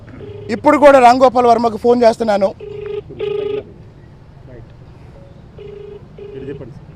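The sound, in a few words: telephone ringing on an outgoing call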